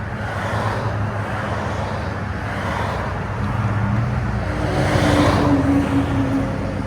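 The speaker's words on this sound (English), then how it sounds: "Tacoma Flowmaster Super 10 and dual tip" A third-generation Toyota Tacoma with a 3.5L V6 and a Flowmaster Super 10 exhaust with dual tips gives off a deep, steady exhaust rumble that swells slightly toward the end, close and without voices.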